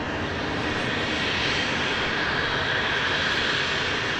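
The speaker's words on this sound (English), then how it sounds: "661 Cessna Citation XLS coming in from San Jose, California. Touchdown on 24 left." NetJets Cessna Citation XLS business jet touching down on runway 24L at LAX, a steady broadband jet roar held at an even level throughout, with no voices over it.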